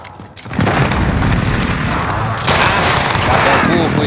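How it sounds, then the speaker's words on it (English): Enemy precision airstrike in Call of Duty Warzone: a sustained barrage of loud, dense explosions rumbling continuously, intensifying midway, with a player's voice talking over the blasts. "Enemy precision airstrike. Take cover."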